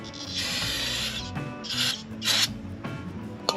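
Brake bracket on a Ford Escape's front brakes scrubbed clean with a hand cleaning tool and brake cleaner: close, repeated rasping strokes in bursts, with a sharp tap near the end, no talking.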